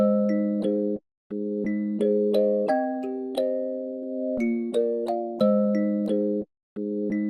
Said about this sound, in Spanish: Aquí en este efecto le estuve añadiendo como un phaser que se estuvo linkeando, y bueno, así es como suena con el Looperator.